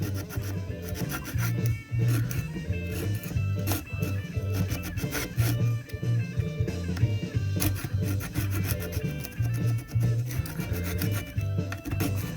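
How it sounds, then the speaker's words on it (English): A small hand saw works in a steady back-and-forth rasp, scraping old glue out of the fret slots of a guitar neck on a luthier's repair bench. The strokes run in a close, continuous rhythm with no talking. "So sawing it, I'll saw through the old glue, but I'm only going in as deep as the teeth"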